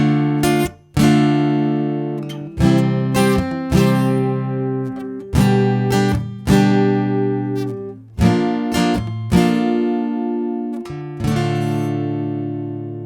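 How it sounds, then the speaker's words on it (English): Acoustic guitar strummed in a rhythmic chord pattern for a pop song, with bright, loud strokes in regular groups and accented beats, ringing clearly alone without any talking. "the type of strum that really fits well with this song would sound something like this"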